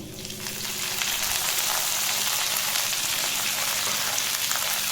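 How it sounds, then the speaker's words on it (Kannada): Chicken liver with curry leaves fries in a pan with a loud, steady crackling sizzle that swells and then holds close throughout, with no talking. "ಆ ಥರ ಫ್ರೈ ಮಾಡ್ತೀನಿ ಇವಾಗ ಕರ್ಬೇವಿನ ಸೊಪ್ಪು ಹಾಕ್ತೀನಿ"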